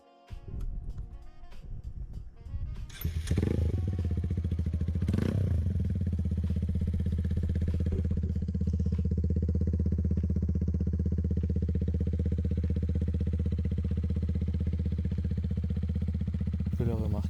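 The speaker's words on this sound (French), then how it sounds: "Maintenant, démarrons la moto pour entendre ce bruit." A Honda CBR 125R with an aftermarket Black Widow exhaust cranks with a few clattering turns, then fires and settles into a steady, loud, even idle that continues to the end.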